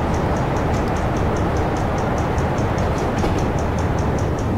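A freight train of tank wagons rolls past in Train Simulator 2019 on the Gotthard line between Erstfeld and Airolo, giving a loud, dense, continuous rumble with a faint regular clatter of wheels over rail joints.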